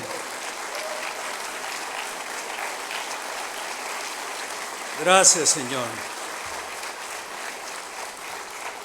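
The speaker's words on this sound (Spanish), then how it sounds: "Póngase de pie, pero no deje de aplaudir. Denle el aplauso al Señor." Congregation applauding in church: steady, dense clapping fills the whole stretch, with a brief spoken thank-you rising over it near the middle.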